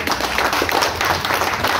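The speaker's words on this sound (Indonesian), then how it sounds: "Tepuk tangan untuk kita semua." An audience at a Bali provincial disaster-agency ceremony claps together, a short burst of close, uneven hand claps over a low background rumble.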